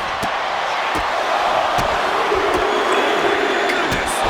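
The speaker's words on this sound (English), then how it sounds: "Taking a moment to get pumped off of this crowd's incredible energy." A wrestling video game's arena crowd roars in a loud, continuous wash of cheering, punctuated by sharp periodic thuds of in-ring impacts.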